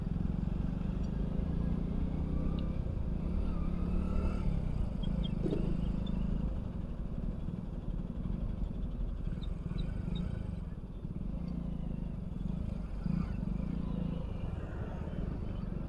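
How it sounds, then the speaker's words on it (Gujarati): Heavy road traffic gives a dense, continuous low rumble of car and motorbike engines, steady and unbroken, moderately loud with no talking over it. "ફૂલ ટ્રાફિક છે, ફૂલ."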